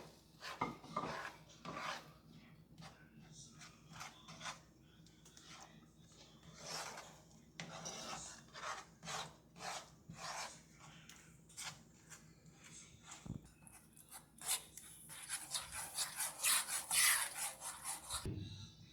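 Flour and whole milk being stirred together in a pan on low heat for a bread filling, with repeated scraping and rubbing strokes in an uneven rhythm, close and fairly quiet, quickening toward the end.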